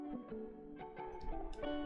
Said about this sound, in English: So it's just adds that tremolo feel a little bit more